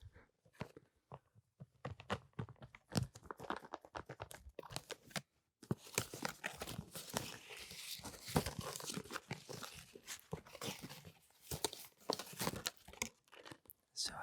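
A box full of Pokémon trading cards is handled up close, giving a run of crisp crinkling, rustling and tapping noises in irregular bursts, with a short pause partway through and then denser handling.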